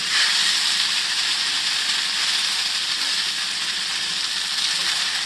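Knephla dumplings fry in a hot pan on high heat, a loud, even hiss and sizzle that holds steady and close throughout.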